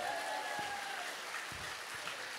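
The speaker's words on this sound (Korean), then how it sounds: "하나님께 박수를 영광." A congregation at a church prayer meeting applauds, producing a steady wash of clapping from a crowd that continues evenly without pause.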